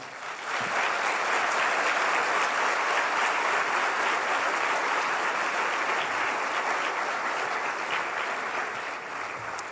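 A church congregation claps hard and steadily in praise during a sermon. The applause is dense and sustained, holding at an even, loud level for the full length with no talk over it.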